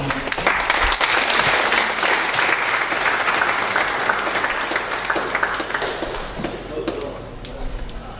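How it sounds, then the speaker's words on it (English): Hall audience at a cybersecurity meetup applauds community members with sustained, full, even clapping that softens slightly toward the end, voices faintly mixed in beneath. "I'd like us to give them a round of applause because this is a great initiative."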